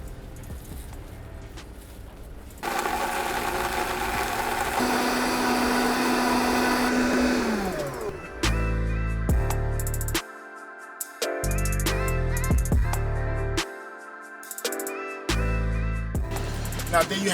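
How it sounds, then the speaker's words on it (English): A blender whirs loudly while grinding curry powder ingredients for a Guyanese duck and curry dish, starting after a quieter lead-in, then running in repeated bursts that cut off and restart several times. "Let's put it in a blender."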